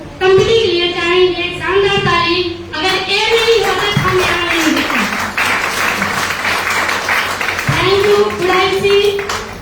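Enthusiastic audience clapping at a network marketing business meeting, sustained applause with voices talking over it.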